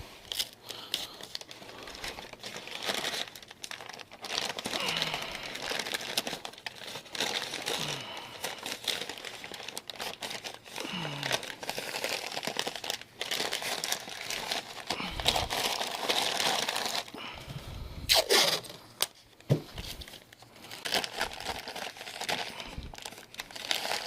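Tape crinkles and rustles close by as masking is pressed over a 2005 Ford F150 grille before Plasti Dip coating, with irregular crumpling bursts and a few sharp tearing snaps, and no talking.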